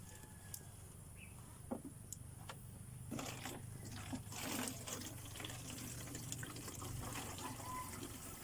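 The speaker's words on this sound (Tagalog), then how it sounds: "So lagyan ko lang siya ng tubig dito sa taas." Water is poured into the top of a DIY drinking-water filter, a faint steady trickle that grows fuller partway through, with a few small clicks and no talking.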